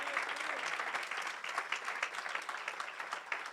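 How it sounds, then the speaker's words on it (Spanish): Church congregation clapping together, a thick continuous burst of many hands with crisp individual claps standing out, held at an even level throughout. "Fuerte ese aplauso para Él"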